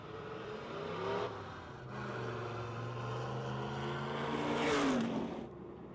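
Race cars roar and accelerate together on a restart at Pennsylvania Motor Speedway, a sustained engine drone rising and swelling as a car passes close by.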